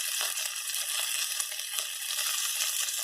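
Pork frying in a hot pan for wet chow fun, a loud continuous sizzle and crackle held steadily close up, with no talking.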